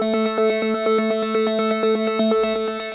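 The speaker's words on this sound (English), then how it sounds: "This is a filter delay with a preset called Wanderer." Synth notes run through a filter delay on the Wanderer preset in a melodic house production, with low and high EQ cuts. A steady, bright rhythmic pulse of repeating tones and echoes plays alone at moderate level.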